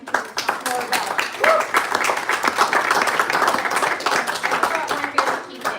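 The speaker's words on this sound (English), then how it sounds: "If you guys can give Janet a round of applause" A small audience at an author reading in Sonoma claps for author Janet Constantino, a close, moderately sized round of individual hand claps with some talk mixed in.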